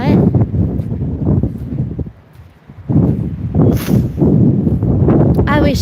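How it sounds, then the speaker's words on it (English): Strong wind buffets the microphone at a beach, with heavy low rumbling gusts that ease briefly and then surge back, steady and loud throughout. "Sounds mega windy. It's always windy at the beach"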